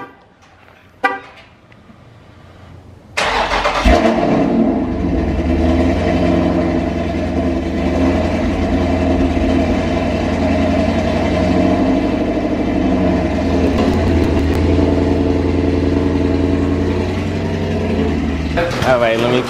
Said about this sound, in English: I'ma give y'all this cold start because y'all deserve it too